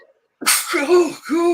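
A sneeze bursts out in a room where people are chatting online, followed at once by a short spoken remark; one sharp, loud burst close to the microphone.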